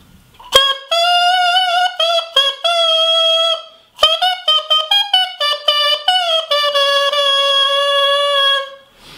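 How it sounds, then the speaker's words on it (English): A saxophone mouthpiece played on its own gives a bright, buzzy, reedy melody, with sustained notes and quick tongued runs, close and loud with no accompaniment. "So playing that just on the mouthpiece may sound something like this."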